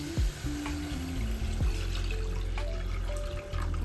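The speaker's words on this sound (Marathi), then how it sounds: "आता यामध्ये आपल्याला पाणी घालायचं आहे" Water pours into a simmering pan of turmeric-spiced pitla batter, making a close, steady trickle and gurgle over a continuous sizzle, with a few clunks from the utensil.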